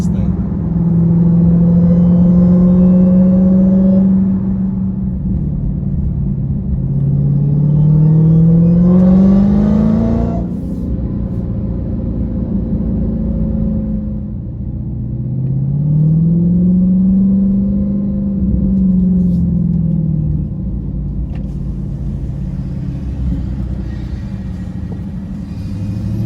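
Dodge Charger Hellcat with a Borla ATAK exhaust revving hard: a deep, loud engine roar that climbs in pitch, drops and climbs again across several rev cycles, with voices over it.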